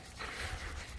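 A dog pants close by in a steady, breathy rhythm of quick huffs, with no talking over it.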